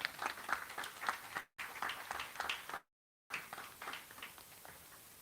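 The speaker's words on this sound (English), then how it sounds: "Round of applause for her as she comes up" An audience claps at a talk event as a guest walks up to the stage, with moderate, scattered applause broken by brief gaps.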